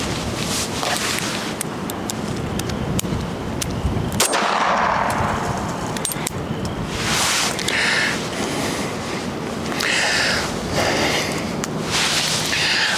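Repeated sharp gunshots ring out at an outdoor shooting range, spread across the clip as loud broadband cracks over a steady background roar, with no talking.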